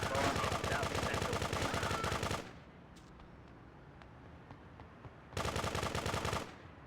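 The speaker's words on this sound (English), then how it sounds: "Silence machine gun." Bursts of rapid machine gun fire from a silenced weapon in GTA 2, two loud sustained volleys separated by a quieter pause with faint clicks.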